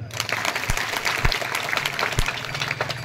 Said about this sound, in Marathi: सर्वांनी टाळ्या वाजवा.